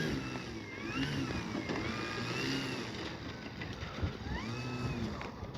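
A Hangar 9 J-3 RC plane's 10cc engine running steadily, a constant buzzing drone whose pitch rises and falls in slow sweeps as the throttle varies, close and fairly loud.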